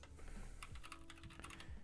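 Rapid clicks of a keyboard shortcut being pressed on a computer keyboard, a short burst of several close, crisp key taps with no talking.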